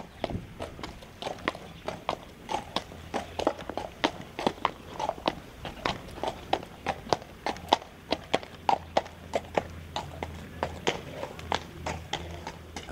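Horse walking under a rider during dressage training; steady rhythmic hoof clops, fairly close and even-paced, with a faint low hum in the background and no talk.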